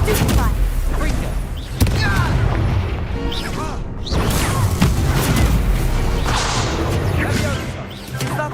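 Confringo blasting spells explode in the Hogwarts Legacy video game as a dense, loud barrage of booming bursts and whip-like cracks, layered continuously over battle effects with little pause.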